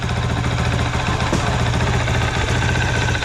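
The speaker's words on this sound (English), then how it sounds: "Maybe hear a little more engine noise on this side." A CRF450L motorcycle engine idles close by, a low, continuous rumble with a slight rhythmic knock, and no talking.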